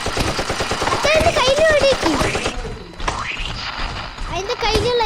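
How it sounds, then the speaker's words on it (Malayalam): Game gunfire from a Roblox Hungry Worm boss fight: quick percussive shots tapping steadily beneath a boy's almost continuous chatter. "ഞാന് കേറി വെടിവെക്കാണ്."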